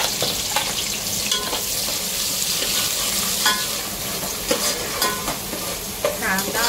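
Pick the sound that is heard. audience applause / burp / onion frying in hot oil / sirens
onion frying in hot oil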